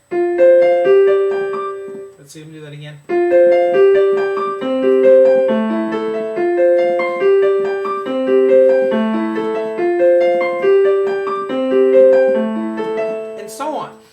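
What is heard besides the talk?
piano playing syncopated intro riff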